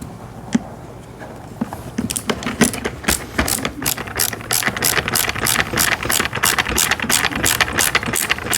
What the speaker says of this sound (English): let's get this screw in here